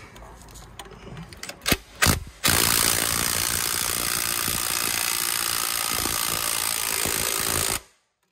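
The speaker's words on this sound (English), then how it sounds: "got my gun in super breakaway mode" A cordless impact gun in super breakaway mode hammers on a bolt on a Shelby Dodge Daytona, a few short bursts and then about five seconds of loud continuous rattling impacts up close before cutting off.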